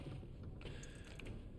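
Faint, irregular mechanical creaks and clicks sound within a low ambient rumble in a horror video game, with no voices.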